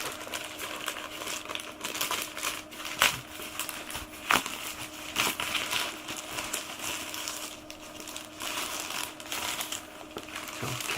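A plastic bag crinkles and rustles steadily as an item from a Forbidden Planet mystery box is unwrapped, dense crackling texture up close with a few sharper snaps.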